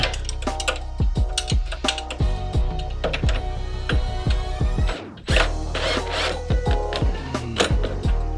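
A wrench tightens a bolt while installing a 3-inch lift on a Can-Am Ryker 600, giving close, crisp ratcheting clicks in quick repeated bursts with a short pause partway through.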